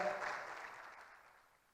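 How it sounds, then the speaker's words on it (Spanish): An audience applauds to welcome a speaker at a talk, a soft, distant wash of clapping that fades away over about two seconds. "Juntos lo recibimos con un gran aplauso de Colombia."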